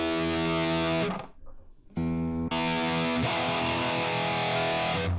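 Heavily distorted electric guitar through a Donner Arena 2000 multi-effects unit, a thick grinding, chainsaw-like tone playing sustained chords, breaking off briefly near the middle before a loud chord rings out again and holds to the end.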